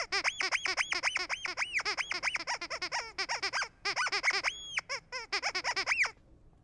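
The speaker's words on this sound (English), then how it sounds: "There's also, what is this, squeaky pig?" A squeaky pig sound effect from a World of Warcraft addon plays as a rapid series of high rubbery squeaks in bursts, loud and close, with a brief pause midway and one longer squeal near the end.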